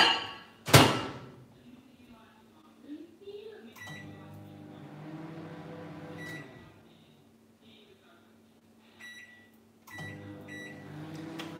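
A microwave oven heats Hausa koko, beginning with a sharp door clunk and beep, then a low steady hum that runs for several seconds, pauses and starts again, with faint background talk.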